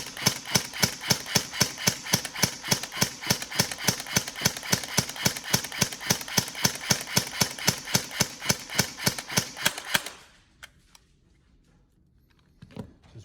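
A Tokyo Marui MP5K airsoft electric gun, serviced and fitted with a power spring, fires a long steady full-auto burst of evenly spaced mechanical cycling for about ten seconds, then stops, followed by a few faint clicks and a handling knock.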